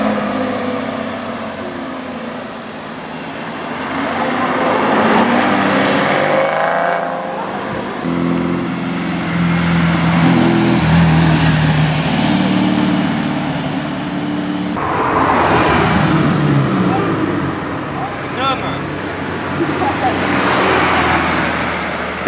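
Classic cars move through the crowded village area at the Le Mans Classic 2016, with engine rumble and traffic noise rising and falling across the scene as people talk nearby.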